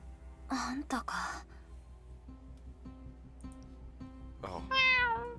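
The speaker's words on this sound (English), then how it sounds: "This is our cat, Leth" A pet cat meows several times at close range, short soft calls early on and a louder, longer whining meow near the end, separated by quieter gaps with faint background sounds.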